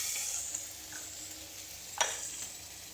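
Garlic frying in a pan, a faint, steady sizzle with a couple of soft stirring scrapes, quiet and close with no one talking.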